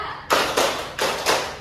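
A classroom of students clapping together in a chant round, four loud, crisp unison claps grouped in two pairs.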